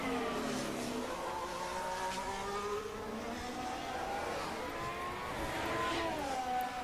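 A Formula 1 car lapping during qualifying at the Dutch Grand Prix, its high engine whine rising and falling through gear changes, steady and loud for the whole stretch, with no voices over it.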